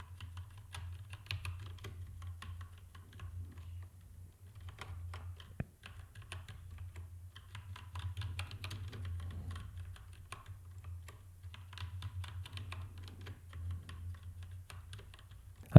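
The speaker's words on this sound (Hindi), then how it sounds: "तो मैं यहाँ पे वापस सेम लेसन टाइप करता हूँ।" Steady, fast typing on a computer keyboard during a typing lesson, continuous light key clicks over a low constant hum, close and moderately quiet, with no voices.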